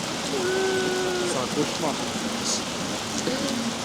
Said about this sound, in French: on va devoir courir sous la pluie et tout.